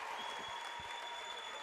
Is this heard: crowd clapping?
yes